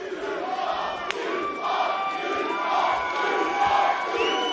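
A dense arena crowd at an MMA bout roars and cheers steadily through a fight's final minute, loud and sustained, with a brief sharp shout standing out early.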